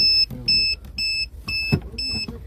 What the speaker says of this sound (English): What is beeping?